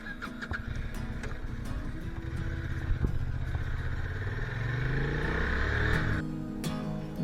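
Motorcycle riding through the Gorges de la Bourne in the Vercors, its engine droning steadily close by with shifting pitch as it accelerates, wind noise over it and no talk.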